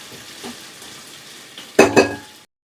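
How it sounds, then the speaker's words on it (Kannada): Onions fry in oil for a masala beans palya, a low sizzle broken by two loud scraping clatters of a spatula stirring against the pan before it cuts off, with no talking. "ಇಷ್ಟು ಪದಾರ್ಥನ ಎಣ್ಣೆಗೆ ಸೇರಿಸ್ಕೊಂಡು ಚೆನ್ನಾಗಿ ಎಣ್ಣೆ ಜೊತೆನಲ್ಲೇ ಈರುಳ್ಳಿ ಫ್ರೈ ಆಗಬೇಕು"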